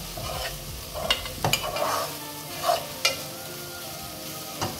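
Spicy cabbage curry with coconut powder frying in a pan, a low sizzle broken by several scraping stirs and utensil knocks close by.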